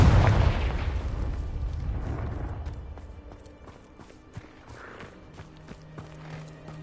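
In Hogwarts Legacy, the Confringo blasting spell goes off with a loud, close explosion that slowly decays into a rumbling tail, followed by faint scattered footsteps.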